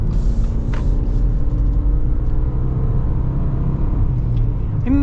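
A Subaru SUV accelerating on a test drive, with a steady low engine rumble and road noise from inside the cabin, droning evenly and fairly loud throughout.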